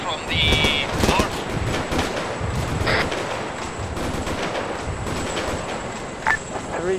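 Steady crackling gunfire in ArmA 3 aimed at an Apache helicopter runs throughout as a dense, distant rattle of shots, with faint voices mixed in.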